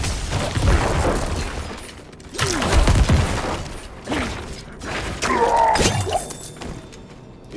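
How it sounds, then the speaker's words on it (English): Corpse explosions from a Necromancer in Diablo IV, a series of heavy booming bursts with shattering crunches and mechanical clatter, several blasts in quick succession amid busy game combat sounds. "Gotta get better with that corpse explosion."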